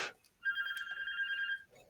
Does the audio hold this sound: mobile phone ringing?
yes